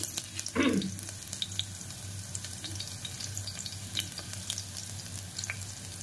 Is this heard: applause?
no